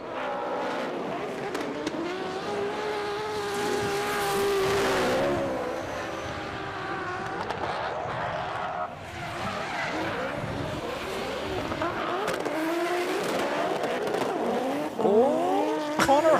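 A Toyota TRD drift car on a race track, its engine revving hard and rising and falling in pitch as the tyres squeal through slides, loud and continuous with no commentary.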